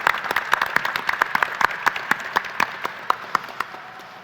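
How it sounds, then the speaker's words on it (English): Audience applause for a panel at an aerospace summer showcase event, a steady wash of many hands clapping with sharp individual claps standing out, holding strong before easing slightly toward the end. "And thanking them, giving them a round of applause."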